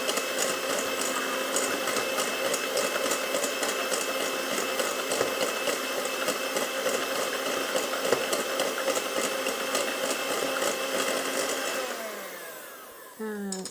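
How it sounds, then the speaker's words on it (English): An electric whisk whirs steadily and loudly while beating egg yolks and sugar for tiramisu, with a continuous motor drone. It slows and stops near the end before a brief restart. "So now with yolks and sugar, whisk until you have double the"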